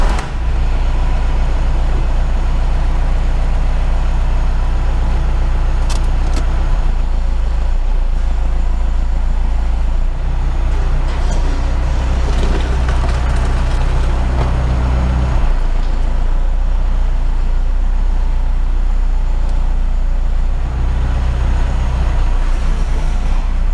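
A Cummins diesel-swapped Ford Thunderbird SC drives a slow loop around a yard, its deep, steady engine rumble loud and close throughout with small swells as it moves, and no talking.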